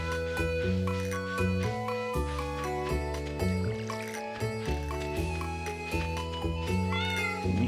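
Cat meows from the Stardew Valley farming video game, several short pitched cries in a repeating pattern over a steady game music backdrop.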